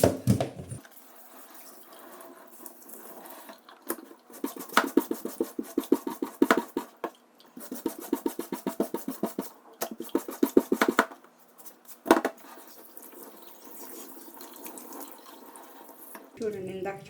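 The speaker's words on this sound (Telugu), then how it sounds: "ఇక్కడ కలెక్ట్ అయిన మురికంతా కూడా ఈ విధంగా బ్రష్ చేస్తే" Mop part of an Ecovacs Deebot N30 Plus robot vacuum and mop being scrubbed with a brush and rinsed under water, with bursts of rapid brushing strokes over running tap water, close and fairly loud.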